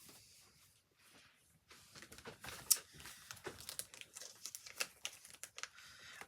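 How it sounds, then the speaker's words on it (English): A fabric shopping bag being pulled open, with soft crinkling and rustling that starts quietly and turns into a string of close, irregular crackles and snaps, heard on its own without talk. "I can't even open the bag."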